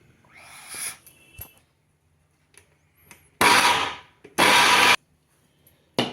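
A mixer grinder whirs in two short loud bursts separated by pauses, grinding fresh green peas without water, preceded by faint clinks and handling noises.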